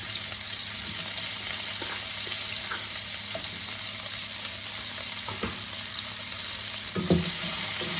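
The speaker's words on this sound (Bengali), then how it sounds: "পেঁয়াজ ফোড়নে দিয়ে দিলাম।" Sliced onion goes into hot oil already tempered with whole cumin seeds, giving a steady soft sizzle and frying hiss, with a few light clinks and stirring scrapes of a utensil in the pan.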